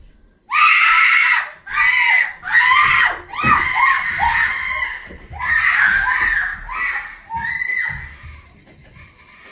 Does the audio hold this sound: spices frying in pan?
no